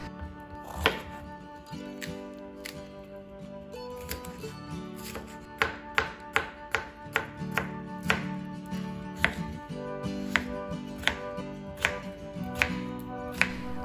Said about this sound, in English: So start chopping your onions, garlic, green pepper, potatoes, cabbage,